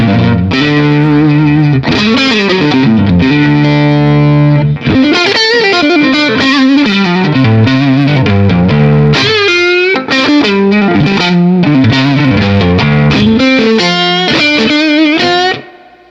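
A Stratocaster electric guitar runs through a Vertex Ultra Phonix overdrive pedal, playing distorted chords and riffs loud and close, with a short pause midway and an abrupt stop at the end, no talking.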